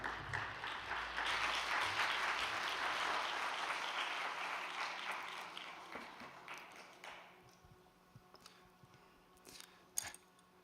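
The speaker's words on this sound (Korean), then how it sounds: "큰 박수로 맞이해 주시기 바랍니다" A hall audience welcomes a speaker with sustained applause, a dense wash of clapping that swells early, then gradually thins and fades into scattered claps and quiet.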